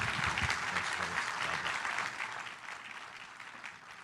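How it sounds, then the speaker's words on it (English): An audience applauds after a speech at a health technology anniversary event, with clapping heard faintly that fades gradually toward the end. "Let me ask all of you to join me in a round of applause for Dr. Oz and his team."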